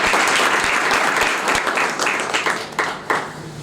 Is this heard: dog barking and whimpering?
no